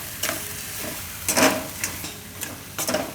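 Maggi noodles being stirred with masala in a pan over low heat, a steady close scraping stir with soft sizzling underneath and a few louder spoon strokes against the pan.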